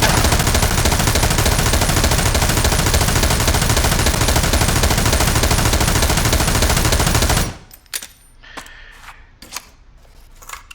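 An M249 machine gun fires a long sustained burst, a dense, loud, continuous roar of rapid shots lasting about seven seconds, then stops abruptly, leaving faint clicks and handling noises.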